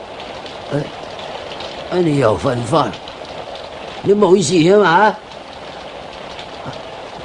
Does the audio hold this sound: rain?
yes